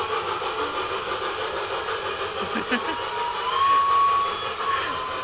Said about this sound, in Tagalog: Ayun yung train oh.